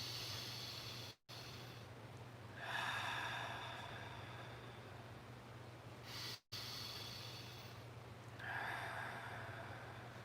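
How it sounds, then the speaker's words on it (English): Slow deep breathing during a guided meditation: two long, airy inhales, each followed by a soft exhale, close and quiet against a low steady hum, with no talking. "Let's just take a few more deep breaths together."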